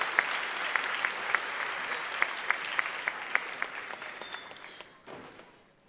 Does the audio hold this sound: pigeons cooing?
no